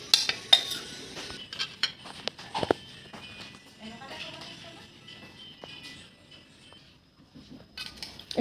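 Ingredients for katori chaat are stirred and mixed in a bowl with a spoon, giving soft scraping and clinking taps in an irregular rhythm, close and fairly quiet, with a few sharper knocks.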